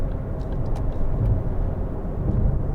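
A 2013 Ford Focus 1.6 TDCi ECOnetic accelerating: a dense, steady low engine and road roar fills the short stretch, loud and continuous with no voices.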